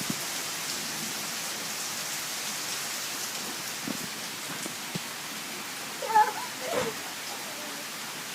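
Steady rain patters on a surface as a continuous soft hiss throughout. Near the end a brief high-pitched cry rises above it.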